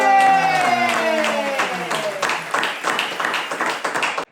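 A comedy-show studio audience claps to welcome guest Pervaiz Raza, with steady applause running under a short musical jingle that fades as the clapping continues.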